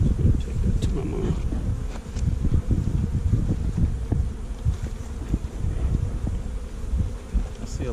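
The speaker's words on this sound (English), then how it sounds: "A lot of bees in the front though." Honey bees buzz around the front of a hive on a farm, a low, continuous droning hum with scattered bumps and handling noise, close and moderately loud.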